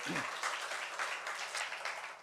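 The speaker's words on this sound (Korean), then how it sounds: "우리 하나님께 영광의 박수 올려드리겠습니다" Church congregation claps together during a Sunday worship service, a short, fairly quiet burst of applause heard from a distance, with a brief low voice at the start.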